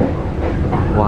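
A vintage CC201 diesel locomotive hauling a passenger train rumbles along steadily, a loud, continuous low-pitched roll with faint rail clatter heard up close, and voices murmur underneath.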